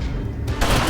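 A Grape Shot Blast gunfire attack in the Darkest Dungeon video game, with a low rumbling lead-in that bursts into a loud, dense scattershot blast, heard alone.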